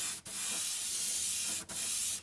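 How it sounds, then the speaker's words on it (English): An airbrush spraying sealer at about 15 PSI, giving a loud, steady close hiss in two long passes separated by brief stops. "This brush sprays well. Even at 15 PSI, it has great coverage."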